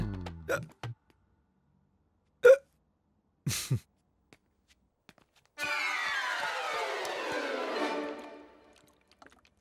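A few sharp, isolated hiccups separated by silent pauses, followed by a longer drawn-out vocal sound that gradually fades.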